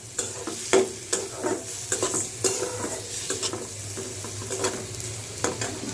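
Shrimp frying in a pan, sizzling steadily, with repeated stirring scrapes and utensil clinks against the pan, close by and with no talk.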